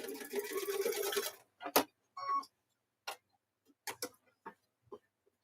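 Sewing machine stitching a heart shape onto the front of a sweatshirt, running in a steady dense burst for over a second, then only scattered short clicks and taps of handling, close and fairly quiet.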